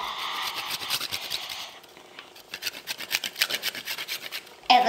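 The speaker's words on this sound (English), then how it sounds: "Now I'm gonna grate some chocolate onto mine." Dark chocolate being grated onto a slushy bowl, a close, fast, rhythmic rasping of quick scraping strokes with a brief pause midway, alone without voices.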